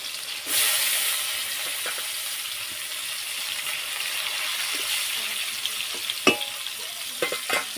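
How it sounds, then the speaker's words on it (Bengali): Bitter gourd frying in a pan gives a loud, steady hissing sizzle that flares up near the start, with a few sharp clinks of a utensil toward the end and no talking. "এখানে হচ্ছে করলা ভাজা হবে আমাদের এখন"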